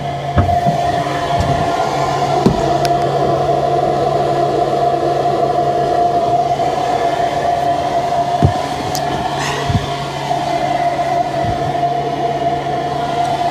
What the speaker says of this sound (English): we want to turn the blower on